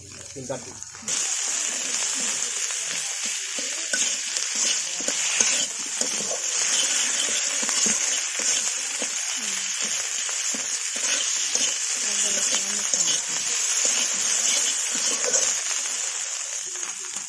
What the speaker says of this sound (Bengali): আমার আলুর সাথে মশলা কিন্তু খুব ভালোভাবে কষানো হয়ে গেছে